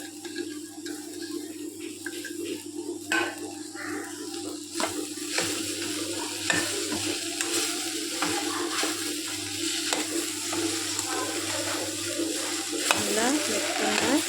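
About 400 g of cut okra sizzles and crackles steadily in a hot pan while being stirred for Kerala-style ladies finger poriyal, with frequent scraping and tossing sounds close by.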